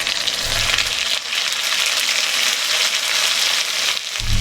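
Spice paste, ginger and green chili hit potatoes already fried red in oil for a vegetarian potato and pointed gourd curry, producing a loud, steady sizzle that briefly dips before flaring up again, with no voices.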